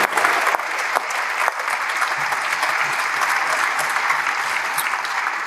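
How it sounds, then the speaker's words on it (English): Sustained applause from a large audience on the legislative opening day, dense and steady throughout, with a few louder individual claps near the start. "who deserves a very large round of applause"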